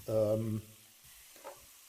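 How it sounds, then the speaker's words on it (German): Onions frying in a pan beside browned pork for a Swiss pork goulash bake, a soft, low sizzle heard faintly after a brief voice. "Zwiebel anbraten, wenn sie glasig werden"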